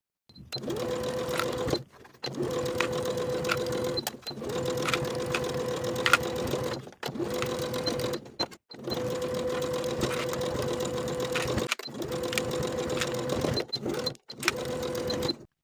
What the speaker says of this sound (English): Sew the top and the bottom curved edge with a 1/4 inch seam allowance.